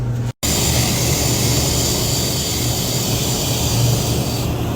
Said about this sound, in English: you can't be a real painter unless you got the motivated painter's blower